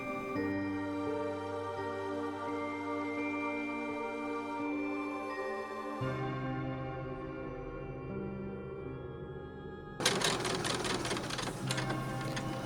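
A sewing machine stitches straps along the top edge of a hand-embroidered pinafore, its motor whine holding steady and then shifting pitch, with a rougher, busier run near the end.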